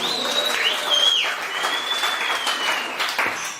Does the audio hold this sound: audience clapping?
yes